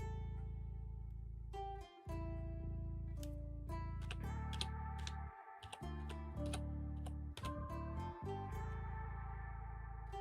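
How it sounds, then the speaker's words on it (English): Computer keyboard keys tapped in short bursts under a steady background tone, a few quick clicks spaced irregularly, close and light, with no speech. "Go to your search window in the taskbar and type msconfig."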